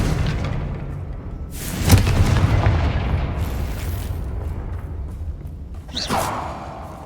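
Fiery Confringo spell blasts from the Hogwarts Legacy video game: a booming impact near two seconds and another whooshing burst near six seconds rise over a steady rumbling game background.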